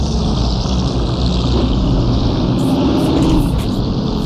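A 1930s Maserati race car engine in Assetto Corsa drones loud and steady throughout, a dense continuous roar with a slight swell near the end.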